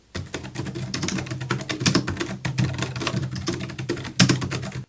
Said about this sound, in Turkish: Klavyenin sesi de tam olarak bu şekilde.